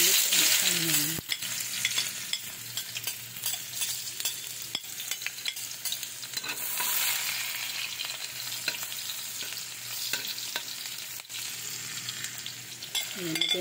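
Garlic and onion sizzle in a hot pan while being stirred, making a close, continuous crackling fry with intermittent scraping strokes and brief pauses, no voices present.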